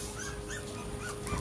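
A puppy whimpers softly in a short, faint burst, the thin whine sitting low under a steady background hiss.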